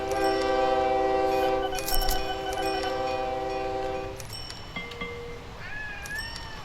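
In the train-simulation game OpenTTD, a long sustained train horn tone plays, then cuts off around four seconds in, followed by brief electronic game effects and a rising tone over steady background noise.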